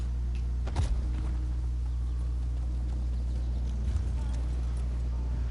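Horse hooves clip-clop in The Elder Scrolls Online, a steady trotting rhythm at close range under a soft game backdrop, with a couple of sharper louder steps near the start and again toward the end.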